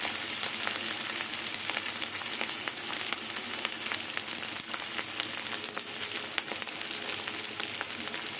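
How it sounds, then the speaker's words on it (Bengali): Onion, garlic and ginger paste fry in a pan with a steady, dense sizzle and crackle, close and continuous throughout, with no voice over it. "পেঁয়াজের সাথে রসুনটা একটু ভেজে নেব, রসুনের কাঁচা গন্ধটা চলে যাওয়া অবধি।"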